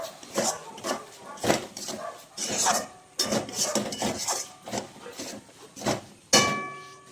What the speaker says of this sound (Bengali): মিওনিজটা দিয়ে একটু নাড়াচাড়া করে নিই।